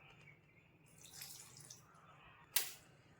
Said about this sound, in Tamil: இப்போ மிக்ஸி ஜாரில் தண்ணிக்கு பதில் நான் கரைச்சி வச்சுருக்க புளித்தண்ணியவே ஊற்றிக்கிறேன்